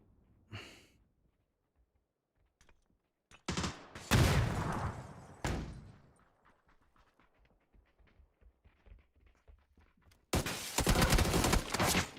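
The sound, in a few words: gunfire in the video game PUBG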